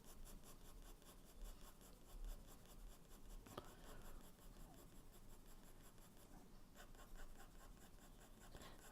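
HB pencil pulling tapered strokes across paper, a steady close scratching rasp of graphite that continues without pause, quiet and alone.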